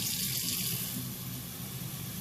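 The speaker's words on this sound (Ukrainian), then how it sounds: "Переводимо кран на гарячу воду." A water tap switched over to hot water runs in a steady, even stream, close and continuous throughout with no talk, as a gas boiler is tested on an inverter backup power unit.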